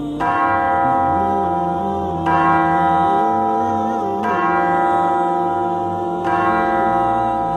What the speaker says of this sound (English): the soft echo of morning church bells